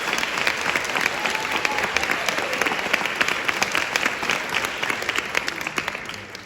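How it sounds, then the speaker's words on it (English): Sustained applause from a school graduation audience for the chamber ensemble that played the processional, dense steady clapping throughout at even loudness, fading slightly at the very end. "Please give them another round of applause."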